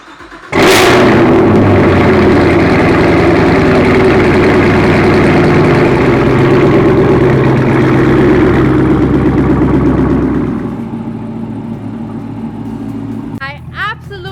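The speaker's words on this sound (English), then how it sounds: "I absolutely love how it idles with the AWE exhaust" Chevrolet Camaro fitted with an AWE exhaust fires up from cold, a sharp start burst settling into a loud, steady, deep idle that drones on for about ten seconds before easing slightly, with brief talk near the end.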